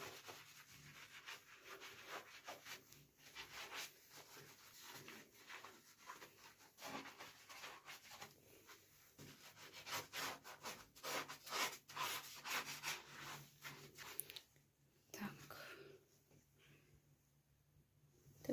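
A sponge scrubbing thick limescale off a ceramic kitchen surface, close and quiet, with irregular rubbing strokes that swell and pause over nearly twenty seconds.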